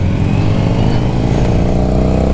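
A 2021 Kawasaki Versys 1000 motorcycle engine drones steadily and loudly, its revs climbing and holding in a continuous close rumble.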